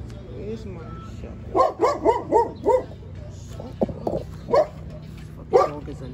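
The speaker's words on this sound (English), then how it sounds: "This dog is annoying me like shit." A dog barks in a rapid burst of several barks, then gives a few more scattered barks, fairly close by in a backyard garden.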